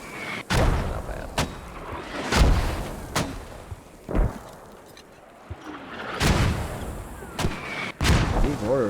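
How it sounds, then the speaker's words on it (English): Mortar rounds in a video game landing one after another, heavy booming impacts spaced a second or so apart with sharp cracks and rumbling tails, loud and near, with brief quiet gaps between blasts. "These mortars, they're basically digging a hole in the ground, hitting right there."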